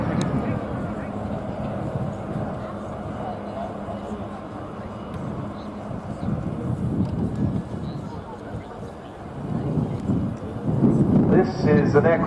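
An Extra two-seat aerobatic plane performs a flying display at the RNAS Yeovilton International Air Day, its engine a steady broad roar that rises and falls beneath talking.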